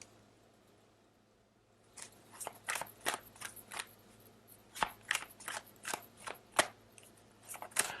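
Tarot cards drawn from a deck for a reading, a dense series of crisp papery snaps and flicks starting after a brief quiet moment, close up and irregular, with no talking over them.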